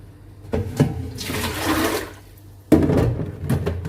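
Cut string beans get a second wash in water, with two loud sloshing, splashing bursts close by, separated by a gurgling swirl of water.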